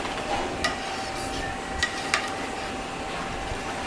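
Pumpkin carbonara sauce with eggs being stirred in a pan, soft scraping and sloshing with a few faint utensil clinks, quiet and steady under low kitchen background noise.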